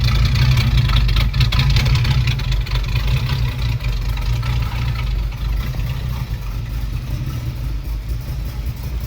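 A Crate 350 V8 idles in a 1932 Ford Model B pickup street rod, giving a steady, loud, close rumble that holds evenly throughout with no talking over it.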